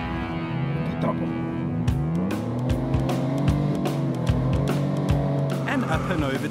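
Off-road vehicle tackling a long sand dune obstacle at an off-road competition, its engine droning and shifting pitch as it climbs a slip face, turns tightly and drops into a bowl, with a commentator talking over it.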